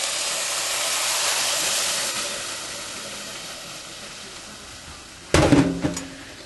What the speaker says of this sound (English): I'm just about ready to put in my milk